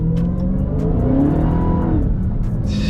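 2020 Dodge Charger Hellcat Widebody accelerating at quarter pedal, loud close engine roar rising in pitch and then settling, with a steady deep rumble and no talking.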